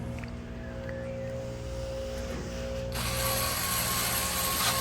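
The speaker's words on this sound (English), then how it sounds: "you have your 1/4-inch screws to screw in and lock it in place" Ratchet clicking steadily as 1/4-inch screws are driven in to lock the igniter in place on a Maytag Bravos XL gas dryer, close and continuous, with a faint steady hum underneath.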